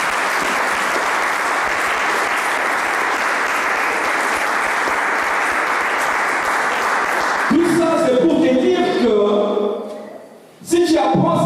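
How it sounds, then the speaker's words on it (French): A church congregation applauds steadily and loudly for several seconds, a dense wash of clapping, before music and voices take over and briefly drop out. "Est-ce qu'on peut acclamer très fort pour la gloire de Dieu?"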